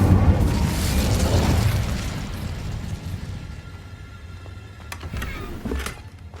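An Incendio fire spell is cast in Hogwarts Legacy, bursting out as a loud fiery whoosh and roar that fades over a couple of seconds, followed by a few quieter crackles and pops.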